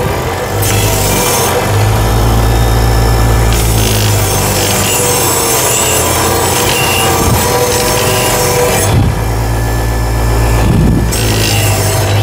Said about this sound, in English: Let's take the wire wheel to it here